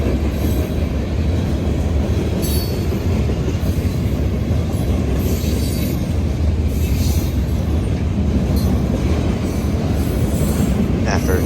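A loud, continuous rumble of CPKC freight train 267 passing close by, with rolling wheel noise and occasional squeals throughout.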